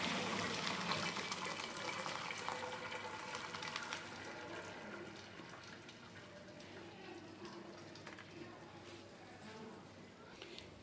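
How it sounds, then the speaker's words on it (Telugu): Cooked rice and its hot water pour into a strainer in a home kitchen while making chicken dum biryani, a steady rushing gush that eases into a softer trickle, with a voice talking over it. "మనం ఇందులో రైస్ వంపుకోవచ్చు. ఇదిగోండి, ఇందులో వంపేస్తున్నాను."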